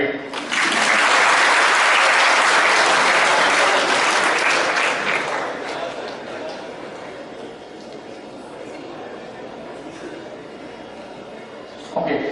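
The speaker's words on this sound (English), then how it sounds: "At least I deserve a clap, right?" A crowd of school students bursts into loud, sustained applause that gradually thins out and fades, with a brief final flurry of clapping at the end.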